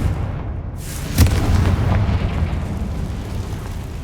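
A Confringo fire spell from the game Hogwarts Legacy bursts in a single sharp explosive boom, followed by a rumbling, crackling decay that fades over several seconds.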